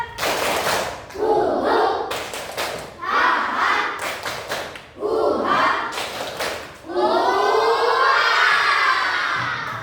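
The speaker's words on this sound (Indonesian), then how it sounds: "Lagi sekali lagi ya. Tepuk rimba." Schoolchildren in a class perform the tepuk rimba clapping chant, with loud rhythmic bursts of group claps, shouted chant lines between them, and a long cheering shout to finish, all close and lively.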